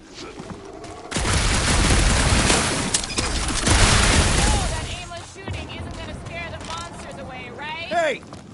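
Rapid bursts of gunfire from a dense firefight in the video game Guardians of the Galaxy, loud and sustained for several seconds, then giving way to quieter scattered effects and chirps with voices in between.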